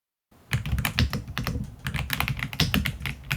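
A mechanical computer keyboard is typed on rapidly and steadily, with dense, close clacking keystrokes and heavier thocks from the bottom row, heard alone after a brief silent start.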